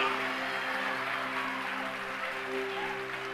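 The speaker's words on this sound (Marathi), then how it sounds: "Yes, give a big clap to एक God." A church congregation claps for God in a dense, sustained wash of applause, steady and fairly loud throughout with a held musical tone underneath.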